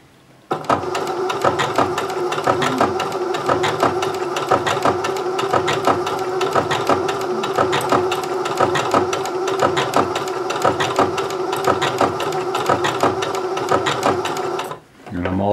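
Singer 6800C sewing machine stitching fabric with an overcast foot, a steady fast mechanical whir and rapid needle clatter running nonstop at close range, then stopping abruptly before a brief restart.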